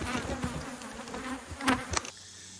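Honey bees swarming around beehives during a mite treatment, a dense, close buzzing that fills the air with individual bees whizzing past the ear, then cuts off abruptly near the end.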